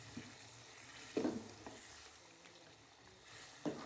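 Fried quail is stirred into a karahi. Three faint, brief scraping strokes with a soft sizzle sit over a low, quiet background.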